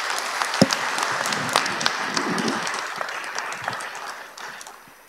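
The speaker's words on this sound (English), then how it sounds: "let's give a big applause to Professor Yannis Tournaras for being here with us today" Audience applause fills a conference hall for a professor, a steady wash of many hands clapping with a few sharp louder claps standing out, tapering slightly toward the end.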